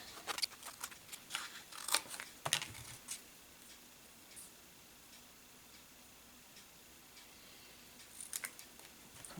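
Scissors snip through paper card for a holiday craft, a scattering of quiet, crisp cuts in small bursts at the start and again near the end, close up and faint with no talk.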